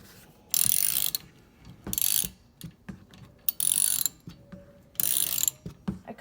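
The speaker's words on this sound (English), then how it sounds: "So the ratchet's right there. First one, snug it up." A ratchet wrench snugs up a bolt in repeated bursts of fast metallic clicking, four distinct ratcheting strokes with brief pauses and small clanks between them, close up with no talk.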